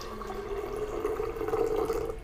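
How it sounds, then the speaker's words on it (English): Hot water poured into a container, a short steady pour with a sustained tonal gurgle that builds slightly toward the end, close and alone. "So what I have up here for us is some hot water. I'm going to pour some in."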